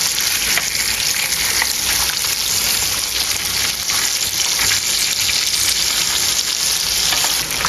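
Fish frying in oil in a pan makes a loud, continuous crackling sizzle that stays dense and steady throughout, close up with no talk.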